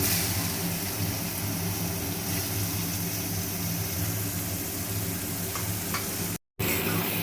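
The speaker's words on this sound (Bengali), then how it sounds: "পেঁয়াজটা একটু লাল করে ভেজে নেব।" Chopped onion fries in oil with a bay leaf, a steady, even sizzle that runs throughout at moderate volume, broken by one brief dropout near the end.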